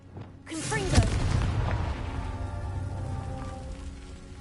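Fire spell blast cast in Hogwarts Legacy: a sudden loud boom with a crackling, rumbling burst that decays into a sustained fiery roar, alone without talk.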